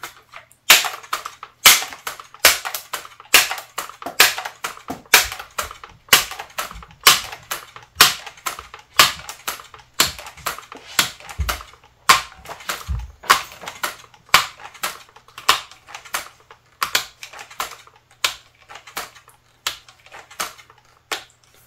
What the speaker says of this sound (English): Now you just saw me pump this gun 20 times.